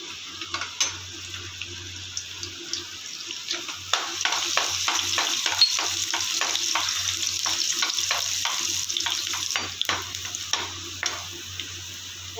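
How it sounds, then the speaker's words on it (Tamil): Garlic sizzles in leftover oil from frying prawn 65, cooked for prawn fried rice, with a steady hiss broken by repeated clinks and scrapes of stirring, close and clear and without voices. "இறால் சிக்ஸ்டி ஃபைவ் செஞ்ச எண்ணெயிலேயே கொஞ்சம் பூண்டு"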